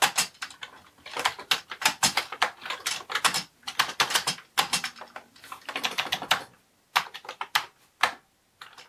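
Rapid clattering keystrokes on a Commodore computer keyboard, typed in quick uneven bursts with short pauses between runs, close and fairly loud with no talking.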